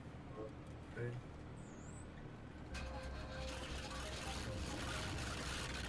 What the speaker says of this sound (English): that engine sounds like it's gonna burst